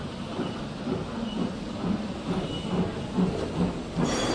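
An N scale model railway train shunts at track 3, giving a low rolling rumble with soft rhythmic clicks and clunks from the wagons, moderately close and without speech.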